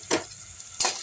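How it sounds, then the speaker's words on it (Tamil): Onions sautéing in hot oil for a chicken gravy, with a steady soft sizzle under two short scraping stirs of the pan, close and moderately loud. "வெங்காயத்தை போட்டுருவோம். நல்லா வதக்கிடலாம்."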